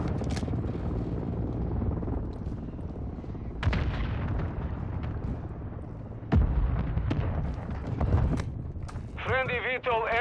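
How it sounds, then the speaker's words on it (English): Mortar strike explosions boom in Call of Duty: Modern Warfare II, several heavy blasts with rumbling tails spread over the clip amid constant battlefield noise and scattered gunfire, and a short burst of synthetic warbling near the end. "Hostile Mortar Strike in the area."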